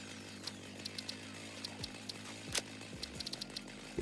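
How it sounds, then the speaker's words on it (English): Chainsaw in the video game Satisfactory running at a low steady idle, fairly quiet, with scattered short clicks and taps over it and no talking. "I think the chainsaw's just a little too loud."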